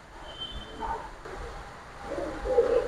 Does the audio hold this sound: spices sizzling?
no